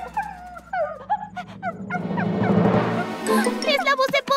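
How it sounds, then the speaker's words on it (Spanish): A cartoon puppy barks and yips several times from a pile of tires, short high whimpering barks amid a burst of noisy commotion, with voices around it. "Un cachorro está ladrando desde esa pila de neumáticos."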